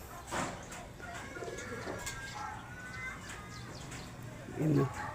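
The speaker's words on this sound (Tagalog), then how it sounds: "Marami na rin dumadang ibon dito" Pigeons or doves coo outdoors in soft, low calls, with one louder coo near the end, over quiet background noise and faint chirps.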